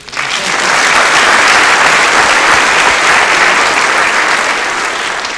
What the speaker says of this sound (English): Can we get a round of applause quickly?